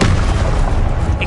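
A Confringo explosive spell bursts in Hogwarts Legacy on PS5, a short, loud, dense boom that fills the moment with broad rumbling noise.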